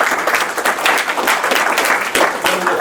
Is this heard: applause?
yes